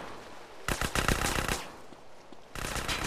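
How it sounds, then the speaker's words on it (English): Bursts of rapid automatic gunfire from a street shootout in GTA San Andreas, loud and close, with a dense volley, a short lull and then another burst. "Why are they shooting at Caesar?"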